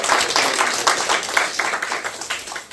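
A church congregation claps for the choir at a Thanksgiving Sunday service, a lively mix of many hands at close to mid range, loud and continuous with uneven bursts.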